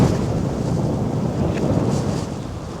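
Steady, loud wind buffeting the microphone on an exposed remote golf course in the UK, a continuous low roar with gusty swells and no voices.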